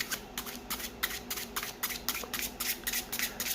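Tarot cards are shuffled close up in a quick series of crisp riffling bursts, each a short papery flutter separated by brief pauses.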